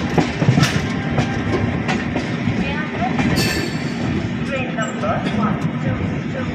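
An express train rolls into Lucknow station about an hour late, recorded from on board. Steady wheel rumble and clickety-clack continue throughout, with occasional louder clanks and a passenger talking over the noise.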